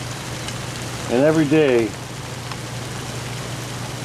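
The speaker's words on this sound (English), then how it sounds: "it just starts pouring down rain" Heavy rain pours down in a steady broadband hiss through the whole stretch, while a voice speaks briefly over it near the start.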